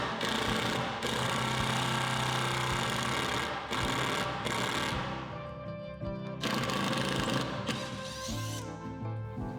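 A power drill or driver runs loud and steady, screwing a mantelpiece into brickwork, with several brief pauses and restarts as the motor pitch shifts under load.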